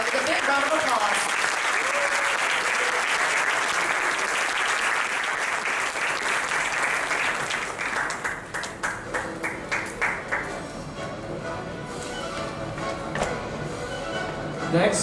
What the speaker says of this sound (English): Please welcome the delegates from China with a big round of applause